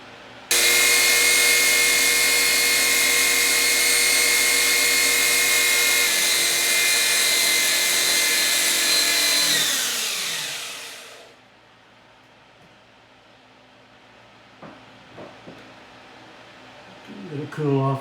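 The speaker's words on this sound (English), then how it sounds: "Now we'll hit it with the sandpaper." A sanding tool on a silver ring made from a Year of the Dragon silver round gives a loud steady high whine that winds down around the tenth second, leaving quiet with a few small clicks and handling noises.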